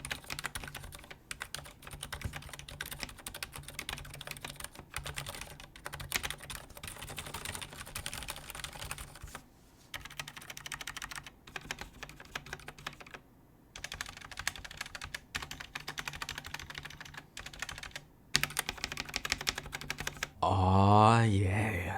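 Rapid, continuous typing on a Ducky mechanical keyboard fitted with Zeal silent switches, muted, dense keystrokes clattering nearby in bursts with a few short pauses, ending in a louder rustle.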